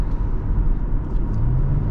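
A 2007 Lexus GS350 AWD sedan accelerates on light throttle, heard from inside the cabin as a steady low engine rumble and road drone with a slight rising tone near the end.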